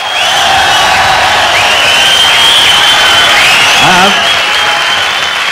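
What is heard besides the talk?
concert audience applauding for a drummer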